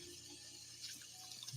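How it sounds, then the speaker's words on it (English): Cold tap water runs steadily into a sink over a raw young turkey being rinsed, a constant hiss of flowing water with light splashes and drips, close and fairly quiet. "you want to rinse with some cold water"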